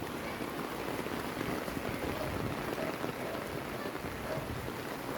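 Steady rain falls in Metro Manila, a continuous dense patter on surfaces with no voices and no change in intensity across the whole stretch.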